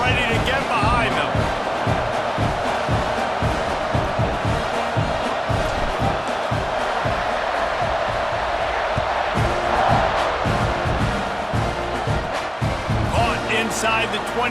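A dense, roaring stadium crowd in the EA Sports College Football 26 video game, loud and constant throughout, with rhythmic thumping and cheering swells beneath it.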